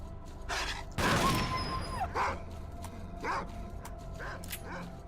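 Dogs bark and yelp in the video game STALKER Clear Sky, a burst of loud close barks followed by several shorter, fainter yips and whines spread across the moment.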